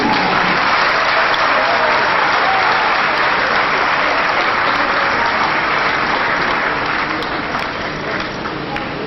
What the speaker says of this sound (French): Une fois de plus, une salle de l'applaudissement pour les amis.